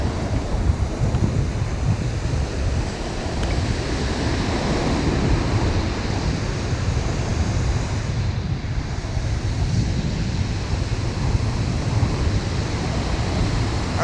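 Wind and surf on a North Norfolk beach during beach fishing near low tide, a constant loud roar of breaking waves mixed with gusty wind buffeting the microphone, with no speech.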